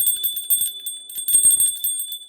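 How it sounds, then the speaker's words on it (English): A bell rings in a quick, bright series of strikes with a sustained metallic tone, loud and close with no talking. "Let's ring the bell."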